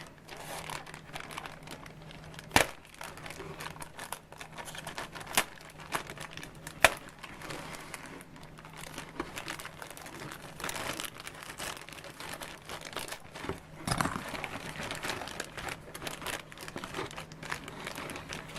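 Plastic bag holding model kit sprues being cut open and handled, soft intermittent crinkling and rustling with a few sharp clicks, close and fairly quiet, no talking.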